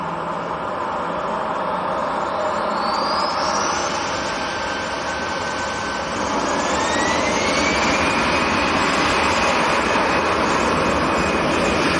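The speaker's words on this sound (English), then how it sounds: "A359 from Hong Kong." A Cathay Pacific Airbus A350-900 arriving at Manchester Airport after a long flight from Hong Kong, its jet engines a steady, loud roar with a rising whine as it passes close by.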